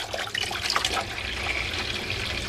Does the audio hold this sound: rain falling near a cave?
no